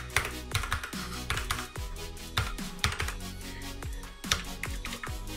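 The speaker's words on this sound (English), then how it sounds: "Here I type in typography." Keys on a computer keyboard are tapped in short bursts of sharp clicks, close and fairly quiet, with brief pauses between runs of typing.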